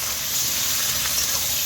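Vegetables hit hot oil already seasoned with black cumin, panch phoron, green chilli and dried red chilli for a hilsa fish curry, giving a steady, close, unbroken sizzle with no talk over it.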